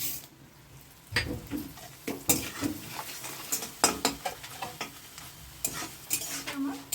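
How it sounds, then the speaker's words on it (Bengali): Gobindobhog rice tossed into a pan of tempering and stirred, a ladle scraping and clattering against the metal in repeated close strokes over a soft sizzle. "কিছুটা গোবিন্দভোগ চাল নিয়েছি এই চালটাকে আমি নি ভালো করে ছেড়ে মুছে নিয়েছি এই চালটাকে আমি এখানে দিয়ে দিচ্ছি"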